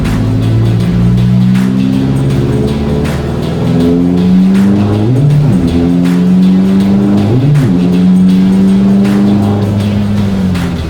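Loud turbocharged car running the FLEX R43-42S V.2 turbo accelerating hard, with rising and falling engine tones as it shifts through gears flat out, with no throttle lift and boost held steady, sustained and close throughout.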